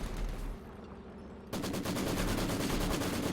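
Maxim machine guns trade bursts in a Company of Heroes 2 match, dense rapid automatic fire with distant gunshots, growing louder and more continuous partway through with no speech.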